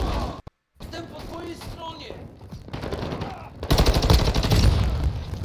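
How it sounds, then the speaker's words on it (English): Rapid bursts of automatic gunfire in Call of Duty DMZ, close and loud, building into sustained heavy firing toward the end after a brief dropout. "He's shooting them."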